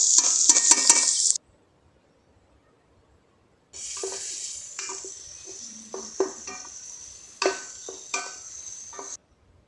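Chopped onion and bay leaf sizzle loudly in a frying pot for a chicken biryani, then after a short silence a spoon scrapes and clinks as the mixture is stirred, with several sharp knocks against the pot.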